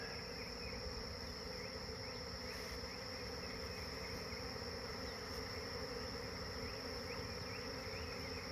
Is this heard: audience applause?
no